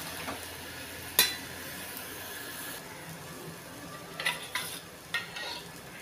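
Moong dal pesarattu frying on a hot pan in oil, giving a steady low sizzle with a sharp scrape or clink as the dosa is flipped, then several lighter spatula knocks later, close by with no talk.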